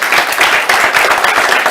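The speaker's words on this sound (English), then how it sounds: "round of applause for Labour" A university audience bursts into loud, dense applause for the Labour team at a Hull debate challenge, many hands clapping steadily and close throughout.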